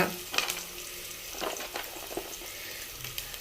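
Whole spices, including cinnamon sticks, marathi moggu, cloves and bay leaf, sizzle in hot oil for double masala chicken biryani, giving a steady close crackle with a few sharper pops and no talking.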